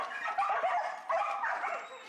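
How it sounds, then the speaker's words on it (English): Dogs in shelter kennels whimper, yip and give soft muffled barks at a distance, a restless overlapping chorus through the short stretch. "These poor doggies back here."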